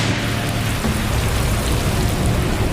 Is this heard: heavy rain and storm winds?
yes